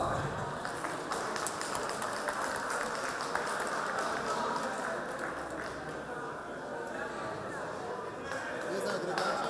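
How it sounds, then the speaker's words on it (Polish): Steady crowd applause for a rally crew at an awards ceremony, continuous clapping with faint chatter, moderately distant and filling the whole stretch. "Brawa!"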